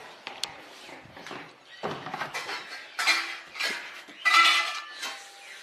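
Dishes and cutlery clatter and clink in the kitchen of Aauniati Satra, a Vaishnavite monastery, in irregular bursts of close metallic knocks and scrapes with no talk.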